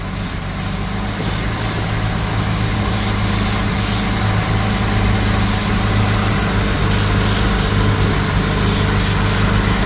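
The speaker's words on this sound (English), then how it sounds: "Just kind of spraying at all the different areas of the carburetor." Vintage Mopar engine idling with a steady low drone while an aerosol is sprayed around its carburetor, giving a constant loud hiss over the engine with short breaks in the spray.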